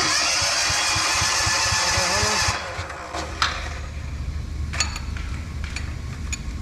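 A small engine with a decompression lever and key start runs in a workshop, a close, steady chugging idle that cuts out abruptly partway, leaving scattered metallic clinks and faint handling noises.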